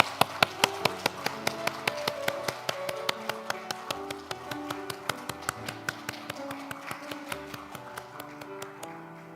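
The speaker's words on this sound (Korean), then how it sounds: "하나님께 영광의 박수 올려드리겠습니다" A church congregation claps together in a steady, even beat alongside music, the sharp hand claps repeating evenly throughout.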